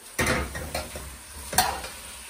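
Pak choi stir-fried with garlic and ginger in a hot pan gives two loud bursts of sizzling and clattering stirring, with a steady frying hiss between them and no talking.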